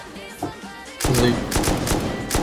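An automatic turret fires in the modded survival video game Rust. After a quieter second, a loud, dense burst of rapid gunfire erupts and keeps going.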